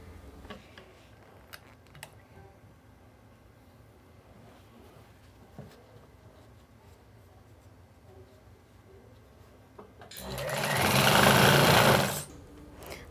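A sewing machine stitches the folded waistband of elastic pants in one loud, steady burst of about two seconds near the end, after a long stretch of quiet, faint handling noise.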